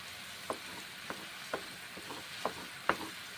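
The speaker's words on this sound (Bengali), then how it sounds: "মশলা এখন কষে নিচ্ছি।" Spices fry in a pan for a green pea dum curry, a faint low sizzle broken by a few soft, evenly spaced scrapes of stirring, with no talking.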